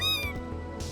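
A cat in the video game Crossing Souls gives one clear, high, drawn-out meow at the start, then a brief, quieter murmur of background sound.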